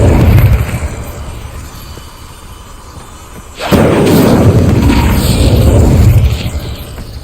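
An Incendio fire spell in Hogwarts Legacy bursts out as a loud booming whoosh, followed by a sustained roaring rush of flame that fades after a few seconds.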